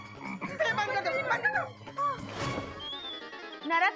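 Frog croaks from a comedy skit, repeated and fairly close, mixed with bursts of other voices and sounds.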